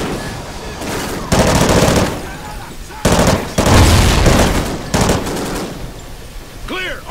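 Bursts of automatic gunfire in Call of Duty: Ghosts, several loud rapid volleys separated by short pauses, with distant battle noise and a brief whistling sound near the end.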